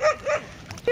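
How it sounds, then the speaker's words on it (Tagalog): Pet dog barks and yips excitedly in greeting at close range, three short sharp barks spread across a second with a whiny edge. "Yung aso ko, sinalubong ako."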